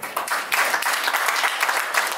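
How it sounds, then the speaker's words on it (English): A live audience at a 2019 Kwara governorship debate breaks into steady, dense applause that carries across the whole moment at moderate volume, with no talk over it. "A round of applause for Dr. Adeoye Raji."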